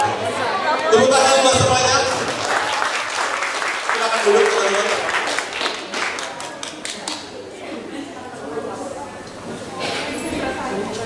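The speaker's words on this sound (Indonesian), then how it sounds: "Tepuk tangan." Clapping and applause from a seminar audience at a motivational talk swell and fade under lively chatter and voices throughout.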